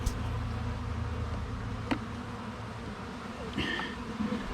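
Small caught honeybee swarm buzzing around the frames of a hive, a steady droning hum close to the listener with a couple of brief louder passes, no talk.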